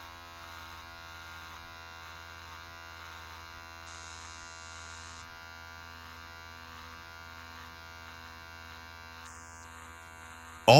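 Electric hair clippers with a zero guard run steadily while shaping afro hair, giving a continuous close buzzing hum with slight shifts in tone as they move through the hair, and no talk.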